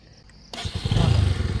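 Motorcycle engine starting and running, a sudden low rumble that kicks in after a quiet moment and continues as a loud, throbbing idle.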